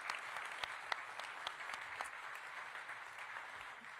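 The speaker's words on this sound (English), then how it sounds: "Give them a round of applause." Audience at a Washington Commanders press conference applauding, a sustained, even burst of many hands clapping with a few sharper individual claps standing out.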